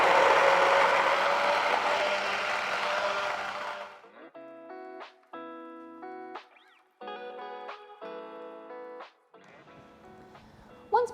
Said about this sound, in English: we're going to blend it with the blades being under the surface, so we don't incorporate too much air